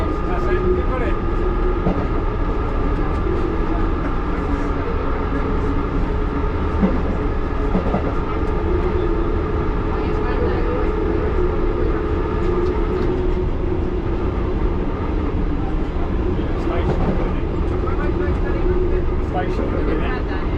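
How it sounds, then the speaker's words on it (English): A heritage London Underground train running on the Heathrow loop from Northfields, a loud continuous rumble and clatter of wheels on track, with voices talking over it throughout. "Got a train up there."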